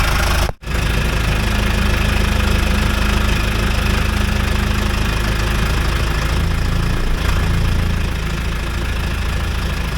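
Bulldozer diesel engine idling steadily after an injection pump idle-speed adjustment, a loud continuous rumble with a brief dropout near the start, running alone without talk.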